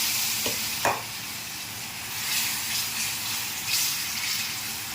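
Water poured into a spiced masala cooking in a pan for a green field bean curry, giving a steady hissing sizzle with a couple of sharp splashy bursts near the start, close and fairly loud, no voices.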